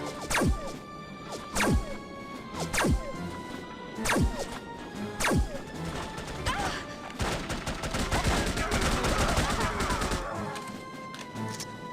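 Bursts of assault rifle fire in the PC shooter No One Lives Forever: several sharp, loud volleys spaced through the opening seconds, then a denser, sustained stretch of rattling gunfire and crashing noise.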